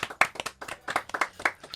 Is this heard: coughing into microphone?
no